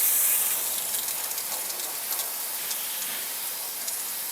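Water sprays steadily onto dyed Halo 5 cosplay armor during a rinse, a continuous bright hiss lasting throughout with a slightly louder start and no voices.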